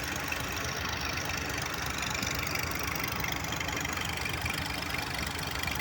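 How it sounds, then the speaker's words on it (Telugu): A diesel engine water pump running steadily to dewater a flooded basement at a construction site, its mid-to-low engine drone and idling knock continuous and fairly close, with no talk over it. "ఆ ఇంజిన్ ఆయిల్ అనమాట బాగా వేసేసి ఇంజిన్ బాగా తోడుతున్నాయి అనమాట"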